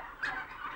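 Turkeys gobble inside a crowded UK turkey farm shed, a short burst of several overlapping calls at moderate volume with no talking.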